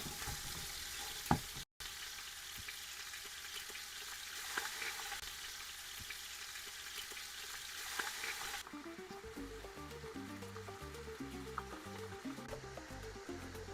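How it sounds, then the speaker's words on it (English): Meat pieces, including one large piece, sear in a pot for tamale al pastor filling, giving a steady close sizzle with occasional pops. Midway the sound turns to a bubblier, pulsing fry. "I'm going to start to sear the meat"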